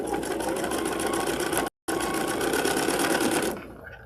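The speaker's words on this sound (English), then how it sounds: "And we're going to sew to this spot right here." A sewing machine stitches fabric pieces in a fast, steady mechanical whir up close, briefly stopping mid-run, then continuing before winding down at the end.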